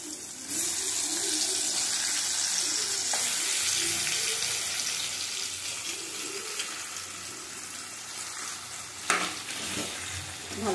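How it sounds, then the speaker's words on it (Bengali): Boiled potatoes fry in a pan for a curry, giving a steady, close sizzle that runs throughout, with a brief clatter of stirring near the end. "ভালো করে ভেজে নিতে হবে।"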